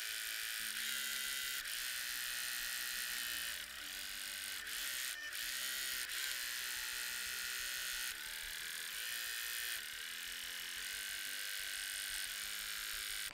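Steady rapid mechanical whir and needle chatter of a sewing machine stitching a quilt seam a quarter inch from marked lines, close and continuous with brief pauses while pivoting.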